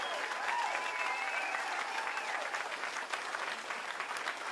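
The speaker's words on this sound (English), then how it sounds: "You could give her a big round of applause." A crowd at a political rally in Maitland, Florida claps and cheers steadily, somewhat distant and moderate in level, with faint whistle-like or vocal tones over the applause.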